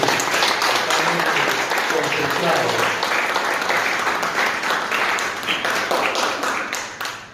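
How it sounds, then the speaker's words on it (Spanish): Sustained applause from a church congregation during a Spanish-language sermon, loud and dense clapping filling the whole stretch with voices and cheers mixed in, tapering slightly at the end. "Denle un aplauso al Señor."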